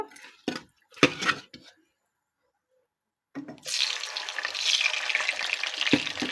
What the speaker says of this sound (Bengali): তেলটা গরম হয়ে গেছে আমি এবার মাছটা দিয়ে দিব